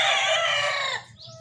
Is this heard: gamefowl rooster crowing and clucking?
yes